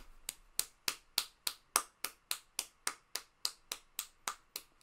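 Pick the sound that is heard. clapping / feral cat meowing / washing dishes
clapping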